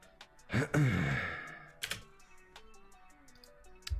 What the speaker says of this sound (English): Don't make fun of my slow ass typing.